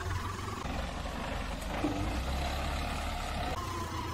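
An Isuzu NQR 4x4 truck drives off-road on a wilderness track, its engine a steady low rumble with rough broadband road and wind noise throughout.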